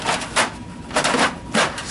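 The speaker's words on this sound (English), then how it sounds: "And we pull out our bottom tray" The bottom paper tray of an Oki 420 printer slides out, giving a few loud plastic scraping and rattling bursts, close and clear.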